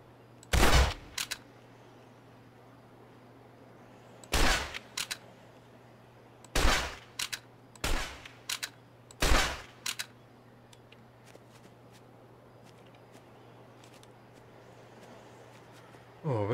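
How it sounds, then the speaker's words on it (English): Rifle shots in the hunting video game Open Country, around five or six sharp loud cracks spaced a few seconds apart, some followed by quick echoes, over a low steady hum. "So switch back to the rifle."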